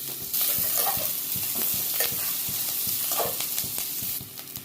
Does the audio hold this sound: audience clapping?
no